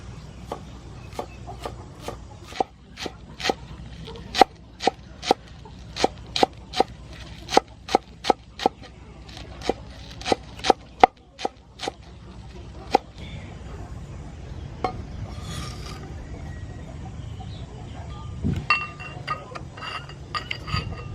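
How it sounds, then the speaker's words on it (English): Green onion being chopped with a knife on a cutting board for a squid and tomato dish, a fast run of sharp, evenly spaced taps up close, then a few scattered clinks and quieter kitchen handling. "Then I'm going to cut green onion."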